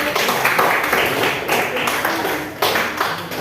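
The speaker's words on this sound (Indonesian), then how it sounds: "Oke, tepuk tangan untuk kita semua." A classroom full of students applauds together, a steady dense patter of many hands clapping close by that swells briefly near the end, with no talking over it.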